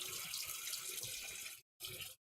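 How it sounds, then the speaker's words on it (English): Tap water runs steadily into a sink while a fork is rinsed beneath it, a broad close splash that stops briefly and then resumes for a moment, with no talking. "we'll rinse our fork off"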